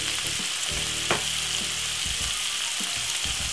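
Cabbage, white onion and peppers stir-frying in a hot pan for cabbage and saltfish, a dense continuous sizzle with occasional scraping stirs, close by and steady throughout, no voices.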